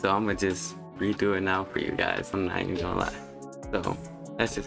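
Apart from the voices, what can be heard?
No everyday noise stands out behind the speech.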